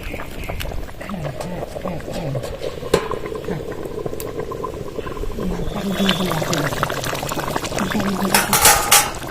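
Gobindobhog rice cooking with pointed gourd and slit green chillies in a pot, bubbling and simmering while a spoon scrapes and stirs along the bottom, with someone speaking over the sizzle and clinks.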